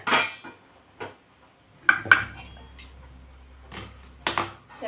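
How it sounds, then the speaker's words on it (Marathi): Metal cookware clanks as a cooking pot is lifted off and set down and a wok is placed on a home stove, giving several sharp, close clinks and knocks spaced over a few seconds with quiet gaps between. "आता आपण कढई ठेवूया हे पातेला खाली उतरवून घेते"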